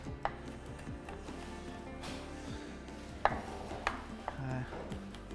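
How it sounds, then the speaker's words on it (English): A knife taps against a cutting board in irregular chops through chicken, with a few sharper thuds and faint kitchen clatter in the background. "all we're going to do is just start chopping it up finally"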